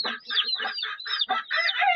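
An Indian game hen (hint tavuk) with chicks about ten to twelve days old gives a quick, close run of clucks and squawky calls in short irregular bursts, with no talk.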